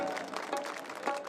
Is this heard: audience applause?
yes